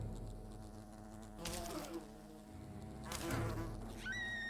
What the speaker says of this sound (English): Our first quest is to fight some giant wasps